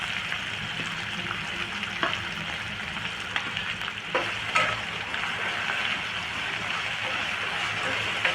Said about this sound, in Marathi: आता आपण कांदा आणि एक मिरची घेतलेली आहे ती टाकूया